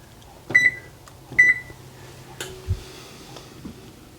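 A kitchen oven being set to preheat to 350 degrees gives two short electronic beeps, then a few soft clicks and taps from the control panel, close by in a quiet room.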